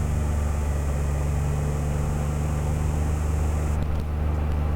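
A Can-Am Spyder F3 three-wheeled motorcycle rolls along a quiet, narrow backcountry road, its engine a steady low drone under constant wind rush that holds evenly throughout, with no voices.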